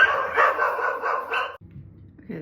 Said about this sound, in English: the doorbell rang, the dogs went crazy